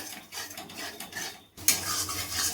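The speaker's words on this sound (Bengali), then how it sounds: "যেহেতু কাজু দিয়েছি এর জন্য ভালোভাবে নাড়তে হবে, নাহলে লেগে যাবে মশলাটা।" Spice masala with cashew paste being stirred in a pan, a continuous scraping and clinking of a utensil against the pan with a soft sizzle, growing louder and busier toward the end, no voices.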